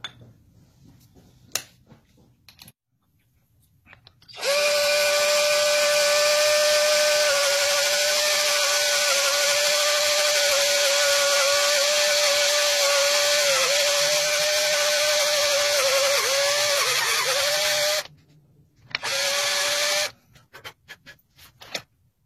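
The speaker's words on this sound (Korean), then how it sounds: "이것은 스텝 드릴이라고 드릴이 이제 갈수록 간격이 늘어나는" A step drill bores out a small hole to widen it so lines can pass through, a loud steady whine with a shrill tone that runs for about fourteen seconds, then stops briefly before a short final burst.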